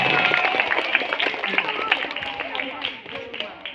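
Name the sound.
audience clapping hands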